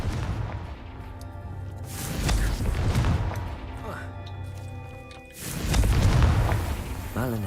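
Explosive Confringo spell cast in Hogwarts Legacy, a heavy booming blast that rolls out, then settles, before a second loud burst near the end. Game score and effects play underneath.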